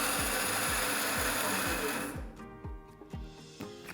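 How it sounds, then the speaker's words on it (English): A bandsaw cuts through wood, a rhythmic pulsing whir for about two seconds that gives way to the motor running down with a few soft knocks. "And this is why I love this bandsaw,"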